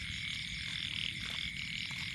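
A dense chorus of frogs croaking continuously, a steady buzzing trill with no pauses, close and fairly loud throughout.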